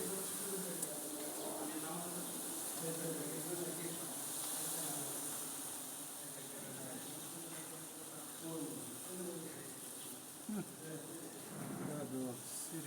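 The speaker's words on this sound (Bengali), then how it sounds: "মৌমাছির গুঞ্জন শুনতে পাচ্ছি" Honeybees hum steadily around a natural hive being smoked for honey collection at a university campus in Tangail, a faint continuous drone with voices talking over it throughout.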